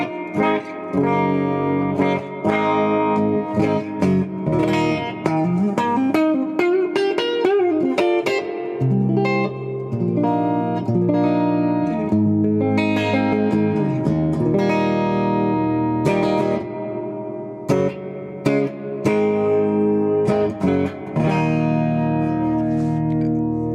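Electric guitar played through a newly built amplifier cabinet with reverb, sustained distorted notes and chords with slides and bends, ringing with a washy reverberant tail, loud and alone with no talking.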